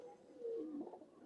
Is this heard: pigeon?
yes